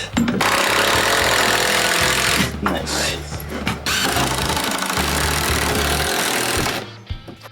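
A loud power tool whirs and rattles in long bursts as screws are driven during a bathroom renovation, with brief pauses between runs and a short spoken remark.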